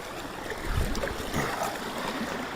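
Mountain creek in the Wind River Mountains flowing beside a wilderness trail, a steady broadband rush of water with gentle swells, no voices.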